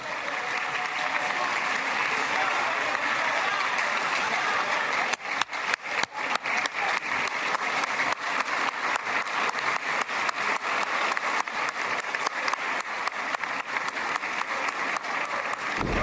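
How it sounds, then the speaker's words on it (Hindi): Continuous applause in the Israeli parliament, a broad wash of clapping that turns into rhythmic, synchronized claps partway through and keeps going to the end. "तालियां बज रही हैं"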